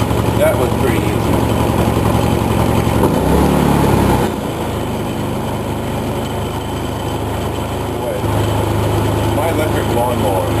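A Predator 3000 watt inverter generator runs with a steady, fairly quiet engine drone whose pitch drops and rises midway, heard up close.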